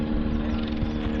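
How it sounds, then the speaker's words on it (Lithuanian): A police helicopter flies over Los Angeles, giving a steady, loud rotor drone with a low hum that continues throughout and has no talking over it. "Sraigtasparnis policijos prižiūri viską."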